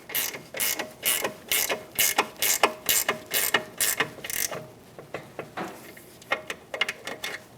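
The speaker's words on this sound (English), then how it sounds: "To tighten this, we'll use an 18mm wrench and an 8mm to hold the stud still." An 18mm ratchet wrench tightens the mounting nut on a 2009-2019 Ford Flex rear lateral link, giving about a dozen quick, loud clicking bursts in steady rhythm over the first half, then sparser, fainter clicks.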